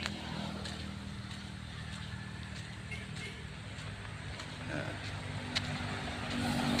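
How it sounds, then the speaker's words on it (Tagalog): Cars and motorcycles pass on a highway in a steady, continuous rumble of road traffic, with engine drone rising slightly toward the end and no clear voices. "Puro na mga sasakyan to."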